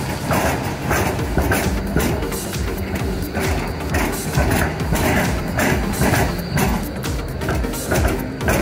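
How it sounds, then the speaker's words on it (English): A tram rumbles along with steady mechanical clatter and hum, loud and close throughout, with no voices. "A tram is a type of light rail vehicle"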